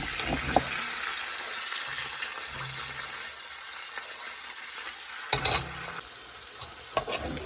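Fresh rosemary, oregano and frozen pepper added to a hot pan for legume, producing a steady close sizzle and frying crackle, with a few brief stirring clatters.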